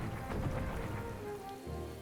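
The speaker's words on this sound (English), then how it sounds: "It's raining." Steady rainfall in the video game Ultra Kaiju Monster Rancher, a continuous hiss of drops on a surface with a low rumbling underlayer, fairly loud and alone with no talking.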